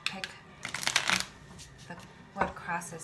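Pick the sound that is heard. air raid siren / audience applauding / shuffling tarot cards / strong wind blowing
shuffling tarot cards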